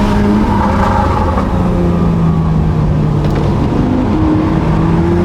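A car's engine drones steady and loud from inside the cabin while driving the mountainous Route Napoleon in heavy traffic, with slow pitch shifts through gear changes and no talk.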